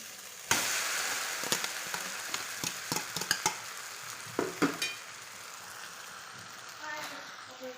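Boiled homemade noodles being stirred in a hot pan, a steady sizzle broken by a series of sharp scraping clicks from the spoon, fairly close and alone.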